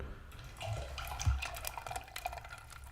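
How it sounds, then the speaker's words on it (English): Minute Maid lemonade poured into a bucket, a soft liquid splash and trickle with light clinks against the container, close and quiet. "we're gonna pour half of the Minute Maid lemonade in there"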